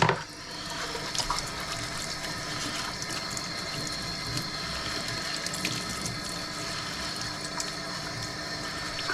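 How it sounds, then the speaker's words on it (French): An aquarium pump runs in the water of a fish tank, a continuous close bubbling and watery rush that stays steady throughout with no voices. "Là, je vais nettoyer la pompe."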